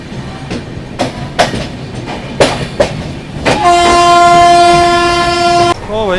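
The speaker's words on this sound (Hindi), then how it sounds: "2 मिनट के स्टॉप के बाद अपनी ट्रेन निकल रही है ग्वालियर जंक्शन से" Chennai Duronto Express pulling out of Gwalior Junction, with several sharp rail clanks and clatter, then a long, loud, steady train horn blast close by.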